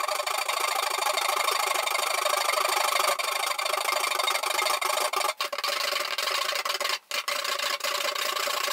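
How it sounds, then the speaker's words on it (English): A hacksaw cuts through rigid copper pipe, a steady fast rasping stroke after stroke, loud and close, with a couple of brief pauses near the end and no talking. "So we're going to have to cut through that using a hacksaw."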